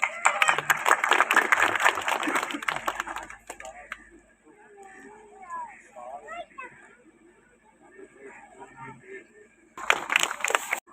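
Audience at a public gathering in a religious venue breaks into brisk, crackly applause, loud and close for several seconds, fading to murmured talk, then a short second burst of clapping.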